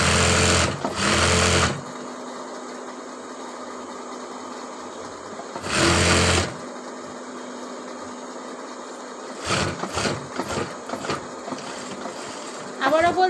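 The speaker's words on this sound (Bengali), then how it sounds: "এরপরে হচ্ছে এটা ঘুরিয়ে আবারও আরেকটা সেলাই দিয়ে দিচ্ছি একদম" A sewing machine runs several short, loud bursts while stitching the side seam of a kameez, with long quiet pauses between runs and someone speaking softly in the gaps.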